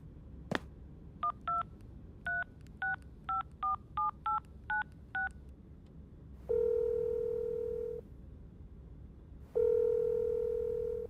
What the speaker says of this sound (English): Ta goes over and dials Za's number.